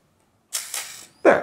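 A vintage camera shutter fires with a hot-shoe flash unit attached: two quick mechanical clicks close together, then a louder, sharper snap after a short pause, all close up with no voices.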